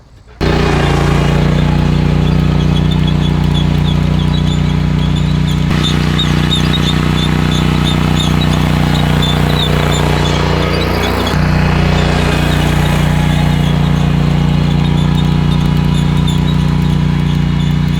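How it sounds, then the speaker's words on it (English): Machine that needs grease running loud and steady at close range, a continuous mechanical drone with a high squeal riding on top for the whole stretch. "something on this machine needs some grease. I hear it."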